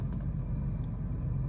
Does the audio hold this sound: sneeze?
no